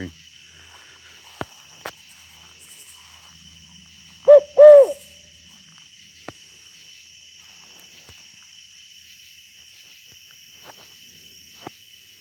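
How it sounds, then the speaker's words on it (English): A single owl gives a short burst of two or three quavering hoots, clear and fairly close, against a quiet night backdrop of steady insect buzz and a few faint clicks. "Did y'all hear the owl?"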